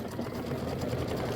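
An embroidery sewing machine stitches quilting on a small mini quilt with a brief, steady, rapid mechanical whir, close and unbroken throughout.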